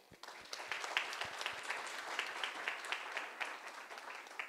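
Applause from the audience at a state representative candidate forum, a moderate, spread-out clapping with individual sharp claps standing out, heard from a distance in a room.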